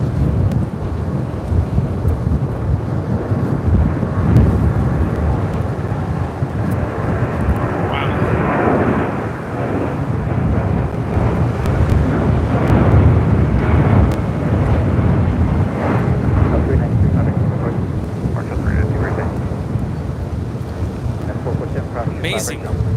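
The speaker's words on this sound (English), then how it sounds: "That was Delta Airlines 392 taking off to Washington National on a 757-200." A Delta Air Lines Boeing 757-200 takes off at LAX on a windy day, a deep, loud rumbling roar that stays strong throughout with gusty buffeting noise mixed in.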